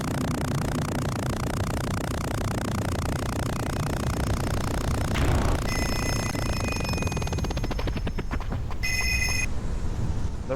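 A telephone in the Payback 2 video game rings in short, bright bursts during the last few seconds, rising over a dense, steady wash of game noise that fills the whole stretch.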